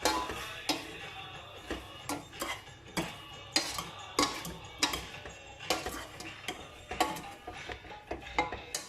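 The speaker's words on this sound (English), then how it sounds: "You mix it softly, otherwise all the fruits are gonna mush." Spoon gently stirring a raspberry crumble fruit filling thickened with corn flour, giving steady soft scraping with a clear clink or tap roughly every half second against the bowl.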